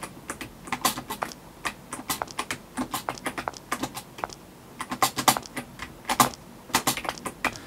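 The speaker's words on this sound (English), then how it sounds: "Sorry if the keyboard's pretty loud." Loud computer keyboard typing close by, a steady stream of sharp key clicks in uneven bursts with brief pauses, alone without talk.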